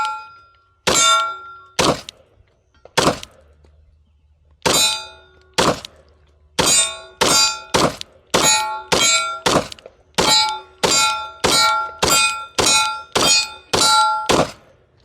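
Beretta 92XI Squalo aluminium competition pistol fired in a string of loud, sharp shots, first a few spaced singles then rapid, evenly paced bursts with no talking.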